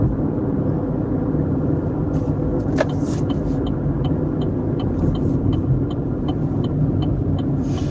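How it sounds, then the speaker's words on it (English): Traffic at a busy road intersection: a steady, loud wash of engine rumble and tire noise from passing vehicles, continuous throughout with no speech. "I'm in a busy intersection."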